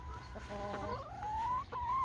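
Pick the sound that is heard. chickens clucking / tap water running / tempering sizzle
chickens clucking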